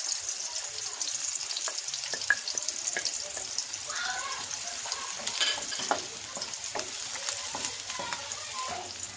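Garlic sautés in oil in a pan for ginisang monggo, a steady close sizzle with stirring scrapes and light clinks running throughout, no talking.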